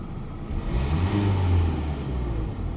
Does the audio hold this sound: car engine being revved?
yes